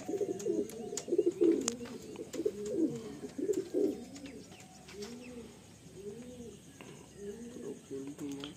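Kalasabuj pigeons in a loft coo in repeated low, rolling phrases, fairly close, with a voice speaking over the first few seconds and the cooing continuing more softly afterward.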